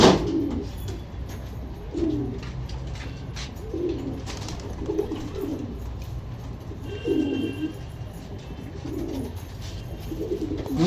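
Pigeons coo steadily in a soft, low rhythm, one throaty call about every second and a half, close by over a faint background hum.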